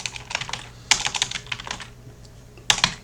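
Typing on a computer keyboard, bursts of quick close clicks in several clusters with short pauses between, alone with no talk.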